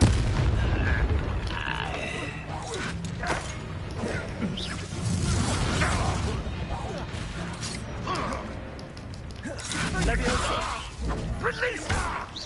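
Incendio fire spells cast in the Hogwarts Legacy game, rushing whooshes and booming bursts amid mechanical clatter, repeated several times across the stretch, with voices speaking between the casts.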